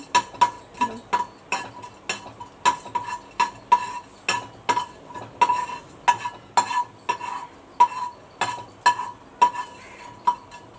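Cloves and cinnamon are stirred in a pan with a metal spatula, producing regular ringing clinks and scrapes about twice a second over a faint sizzle.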